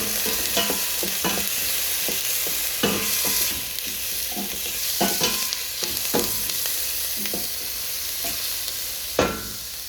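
Two cloves of minced garlic frying in a pan beside browned shrimp, a steady close sizzle broken by repeated scraping stirs, with no talking.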